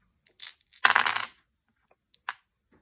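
Two dice rolled during a tabletop game, several quick clicks and clatters followed by a short rattling tumble, then a couple of isolated taps as they settle, close and fairly quiet with no talking.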